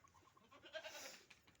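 A young goat on a farm bleats once in a thin, wavering cry, faint and somewhat distant, with soft outdoor background noise around it.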